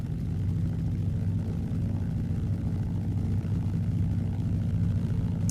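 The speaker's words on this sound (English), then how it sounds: "I am going to throttle up at this point just enough to bring it up into the green" A de Havilland Beaver floatplane's piston engine drones loud and steady up close, a dense low-pitched roar holding constant as the throttle is opened slightly, with no talk.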